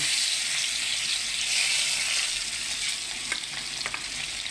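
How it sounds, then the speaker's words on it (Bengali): Katla fish frying in hot oil, a steady, loud, bright sizzle that holds close throughout, with a few small pops and crackles near the end. "তেল গরম হয়ে গেছে এই যে মাছ ছাড়তেছি"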